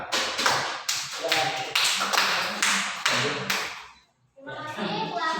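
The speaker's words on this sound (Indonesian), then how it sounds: "Sekali lagi tepuk tangan" Class applauding a student group, a burst of rapid clapping from many hands in a room that dies away after a few seconds, then scattered voices as the room resumes.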